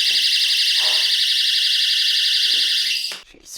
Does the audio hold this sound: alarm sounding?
yes